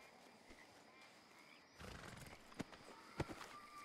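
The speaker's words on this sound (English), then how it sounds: "And your horse ran off." A horse in a cowboy video game whinnies and gallops off, with hoof clatter and sharp accents over steady game ambience.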